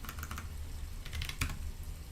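Typing on a Red Dragon mechanical keyboard with brown switches: a quick, irregular patter of soft key clicks with a brief burst of faster strokes, close and fairly quiet.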